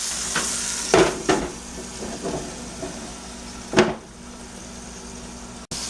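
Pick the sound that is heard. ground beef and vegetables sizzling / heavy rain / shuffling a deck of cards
ground beef and vegetables sizzling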